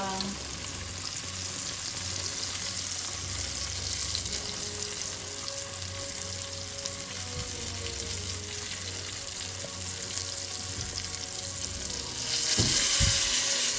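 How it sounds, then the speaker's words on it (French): Flour-coated fish fries in hot oil with a continuous, even sizzle heard close by, rising briefly near the end with a burst of louder crackling, a faint voice occasionally underneath. "comment je fris mon poisson que j'ai badigeonné de farine"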